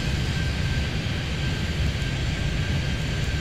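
Airplane taking off in Airport Madness 3D, a steady, loud jet engine roar with a broad rushing hiss and a faint high whine, holding constant throughout with no talk.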